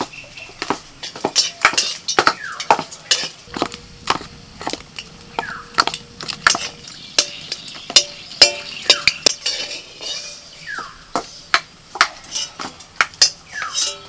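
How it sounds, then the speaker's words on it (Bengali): Dried red chillies frying in oil while a utensil taps and scrapes the pan in quick irregular clinks, a light sizzle running underneath, no speech. "শুকনো লঙ্কা ভেজে নিচ্ছি"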